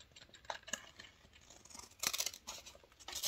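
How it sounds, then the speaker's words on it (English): Scissors trimming fabric for a sewn sunglasses case, a few quiet close snips and crisp cuts separated by short pauses, with a louder run of cuts near the end. "Let's trim that down"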